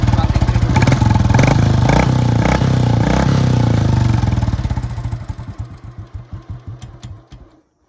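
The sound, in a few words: motorcycle stock silencer exhaust idling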